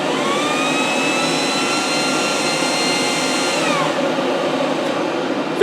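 A heater's blower fan runs at high speed as a steady loud whoosh with a whining tone that holds, then slides down near the end, close and alone.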